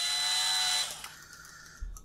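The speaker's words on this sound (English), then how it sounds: "I'm going to try and go very slowly with the drill here, holding it with my hand" A hand-held drill bores into the dome of a Galaxy's Edge Droid Depot R2 droid: a loud, close whirring grind lasting under a second, then it cuts off, leaving quieter room noise and a soft bump.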